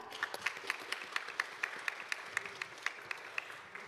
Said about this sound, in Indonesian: Mari beri tepuk tangan yang meriah